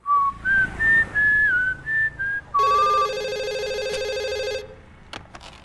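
A telephone rings with a loud, steady electronic trill for about two seconds, following a stretch of melodic whistling, then cuts off, leaving quiet room tone with a brief click near the end.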